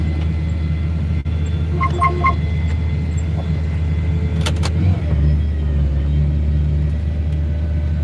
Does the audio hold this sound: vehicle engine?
yes